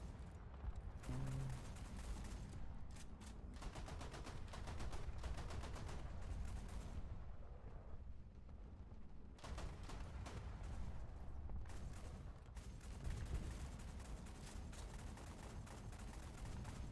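Automatic gunfire in a video game fires in long, continuous bursts broken by brief pauses, heard fairly faint and dense throughout with no voices over it.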